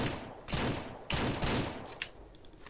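Video game gunfire from Ranch Simulator bursts in rapid, crackling short volleys, loud and close, with brief gaps between them and a sharp final shot.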